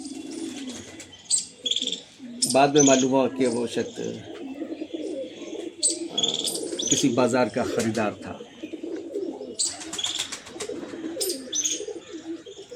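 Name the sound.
pigeons cooing in a cage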